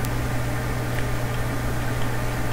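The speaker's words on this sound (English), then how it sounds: "shift and click the blender, and it makes a nice noise" Blender grinding melons in a Minecraft furniture mod, giving a steady whirring hum with a constant low buzz, continuous and fairly loud with no voices.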